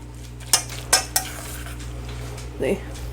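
A utensil mixes and breaks up a tuna patty mixture in a bowl, giving a few sharp clinks against the dish and then a short, soft scraping stir, quiet and close.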